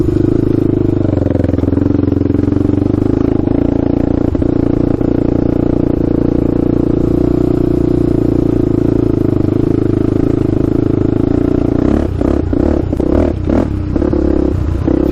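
A Honda 400EX quad's engine runs loud and steady in second gear on a first ride, a sustained close motor drone that breaks into choppier throttle bursts toward the end.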